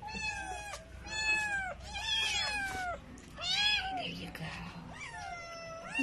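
A stray cat meows repeatedly while being fed, giving five or six drawn-out, fairly faint cries over a low background hum.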